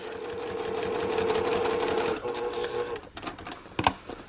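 A sewing machine stitching vinyl to zipper tape runs in a steady, fast whir for about three seconds, then stops. A few short clicks and handling knocks follow.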